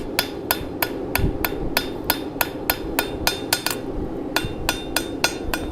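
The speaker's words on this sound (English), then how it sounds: "I'm just going to give this a light hammering work over it. just to give it some character" Light hammer blows land in a steady series of sharp metallic taps, about twenty strikes, on a forged steel coffee scoop blank in a blacksmith shop, close and clear with a low rumble of shop noise beneath.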